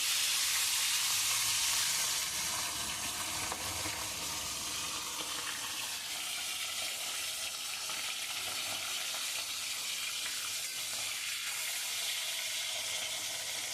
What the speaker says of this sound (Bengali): মাছটা ছাড়ছি, মাছটা ভাজা হবে।